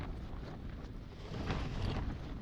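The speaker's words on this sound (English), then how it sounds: "it's a bit flappy now. It's alright, like, but well, I'm surprised this wind's got up in the night." Wind blowing across a mountain campsite in the early morning, a steady broadband rush with gusty swells and some microphone buffeting, strengthening slightly toward the end; no voices.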